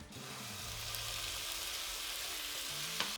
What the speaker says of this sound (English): Return the brown beef to the pot.